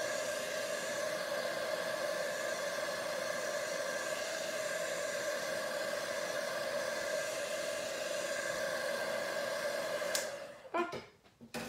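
A heat tool blows a steady, close whooshing drone while drying paint on a handmade card, then cuts off near the end, followed by a few soft handling knocks.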